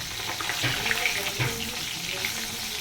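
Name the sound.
bhola and amudi fish frying in oil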